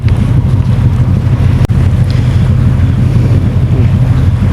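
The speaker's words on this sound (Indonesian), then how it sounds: "Ini anginnya kenceng banget asli." Strong wind on the open sea roars steadily and loudly across the microphone, with a constant low rumble of wind and water and no speech.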